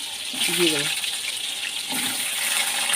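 Potatoes slide into hot mustard oil in a kadai and fry with a steady, close sizzling hiss that runs the whole time, with a brief voice speaking over the start.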